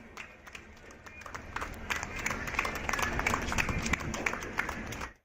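At a railway station, staff applaud as the first train leaves from Bengaluru's KSR station for Belagavi; a crowd of scattered claps builds and holds under a general bustle, then cuts off.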